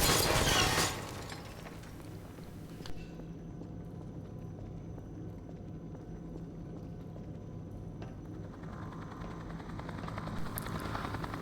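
Helicopter in a video game rising away, a steady whirring rotor drone that fades down after a sharp opening burst, then slowly swells again near the end; no speech.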